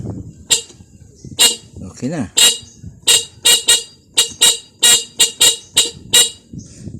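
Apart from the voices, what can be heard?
car horn honking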